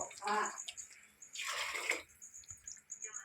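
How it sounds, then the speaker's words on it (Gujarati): Water is poured into a cooking pot in a village kitchen, two brief splashing gushes separated by a quiet pause, soft and fairly close. "તો પાણી નાખી દીધું છે. હવે આને આપણે ઉકળવા દેવાનું છે."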